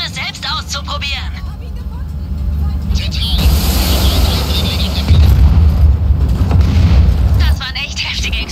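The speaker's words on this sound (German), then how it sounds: "Das waren echt heftige Explosionen!" Heavy explosions boom in Just Cause 4, deep rumbling blasts swelling loud and sustained, with a voice talking over the start and end.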